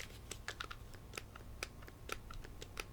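Small plastic face buttons on a PDP Little wireless game controller click in a quick irregular series, faint and close, with no talking.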